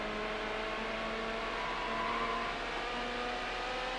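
A red McLaren F1 engine in the video game Need for Speed: Hot Pursuit 2 holds a steady, high-revving drone with layered harmonic tones, constant and moderately loud throughout.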